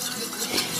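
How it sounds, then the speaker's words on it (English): A spoon stirring Sri Lankan Christmas cake ingredients inside a container, a brief soft scraping and swishing sound, close and fairly quiet with no talking. "Stir it."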